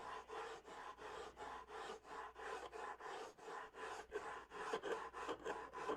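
Rhythmic rasping strokes of sandpaper rubbing back and forth on wood, steady and close, about three strokes per second with no talking.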